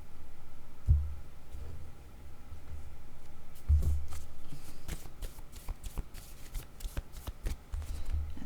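A deck of cards being handled and shuffled close by, soft riffling bursts and papery flicks recurring through the second half over a low steady hum, with no talk.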